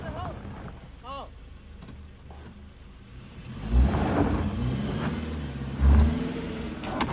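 A Subaru car engine revs hard under full throttle with a deep, surging roar that swells in two loud peaks near the end, while people talk over it inside the car.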